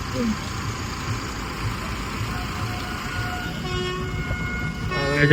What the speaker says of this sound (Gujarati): ટ્રેન આવતી લાગે છે એન્જિન જાય છે